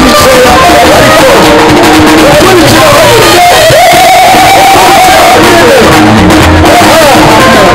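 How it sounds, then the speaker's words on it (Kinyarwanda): A church choir audience in Rwanda claps and cheers loudly, a dense wall of crowd noise with shouts and whoops running throughout, mixed with voices and music. "Bamukomera amashyi menshi cyane."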